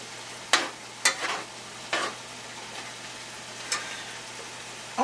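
Ground beef for an Italian sausage and beef lasagna browning in a pan while being chopped, with a handful of sharp scraping stirs and chops spaced over a faint steady sizzle.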